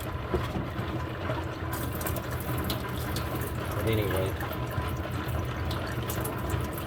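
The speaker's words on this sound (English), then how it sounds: "I drain all of the water that I can." Water drains from an overfilled rock tumbler barrel holding rocks and media through a sink strainer, a continuous splashing trickle under a man's speech.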